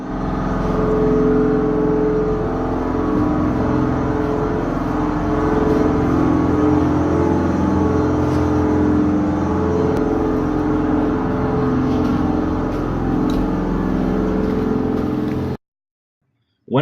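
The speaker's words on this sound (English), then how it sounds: "Here's a clip of what the tram sounds like inside the passenger compartment." Steady low engine rumble inside the passenger compartment of a tram driven by a 6-cylinder, 255-horsepower engine, a continuous droning hum with tonal layers, ending in an abrupt cutoff near the end.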